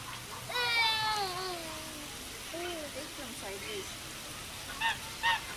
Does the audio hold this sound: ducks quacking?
yes